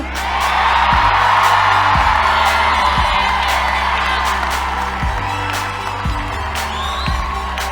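A parade crowd cheering for soccer player Crystal Dunn at a ticker-tape celebration in New York City: a dense, steady roar of voices with whoops and sharp shouts, plus a few low thumps scattered through.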